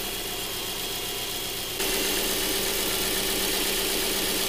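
Subaru Impreza engine idling steadily while its idle speed settles, a continuous low hum with a slight rise in level partway through, no voices.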